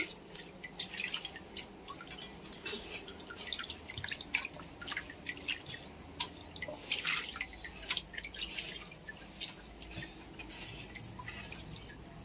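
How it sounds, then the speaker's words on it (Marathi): Fresh bangda mackerel are washed in clean water, producing soft, irregular drips and splashes of water falling into a basin, faint and close, with no talking. "आता मी मासे धुवून घेते हे स्वच्छ पाण्यामध्ये"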